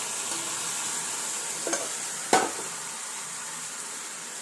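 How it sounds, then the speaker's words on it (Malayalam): Jaggery syrup heats in a pan, giving a soft steady sizzle and bubbling hiss at close range, broken by a couple of brief clinks or stirring knocks partway through, with no voices. "ഒന്ന് തിളപ്പിച്ച് അതിൻ്റെ കുറച്ച് വെള്ളം ഒന്ന് പറ്റിക്കണം"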